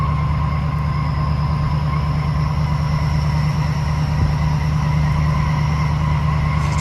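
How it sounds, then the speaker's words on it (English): Tires squealing as a vehicle strains to tow a scrap van: a steady, continuous high-pitched whine sits over a constant low engine drone for the whole stretch, with no voices. "Oh, the tires are squealing."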